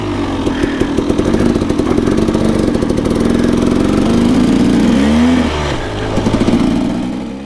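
A KTM 300 two-stroke dirt bike engine roars loud and close during a wheelie, holding a steady buzzing drone that rises in pitch before easing off and then picking up again, with no talking.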